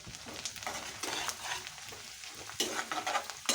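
A spoon stirs beaten rice (avalakki) mixture through ghee in a pan, giving a close, rhythmic scraping sweep over a light steady sizzle, with no talking.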